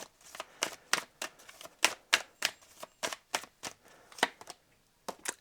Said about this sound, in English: Let's have a little bit more of a shuffle.